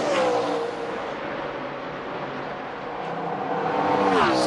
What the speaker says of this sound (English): It's about as hard as you can drive a race car right there